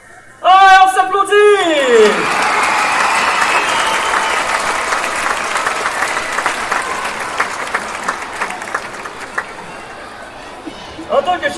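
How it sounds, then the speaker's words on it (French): A large audience at a school gala bursts into loud, sustained applause right after a voice calls out, the dense clapping holding steady for several seconds before tapering, with a few whoops and chatter mixed in. "Ah, on s'applaudit!"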